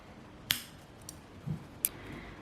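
Two sharp, close snips of scissors cutting through crochet yarn while finishing a crocheted earring, separated by a quiet pause with a soft thud between them.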